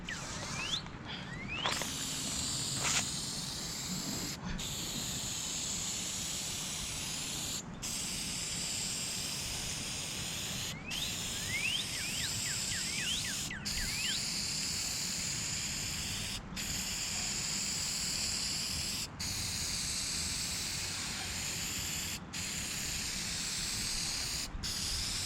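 A steady hiss of spray paint lays another coat on a Takeuchi TL240 compact track loader outdoors, continuous and close, broken by brief gaps and faint clicks at regular intervals.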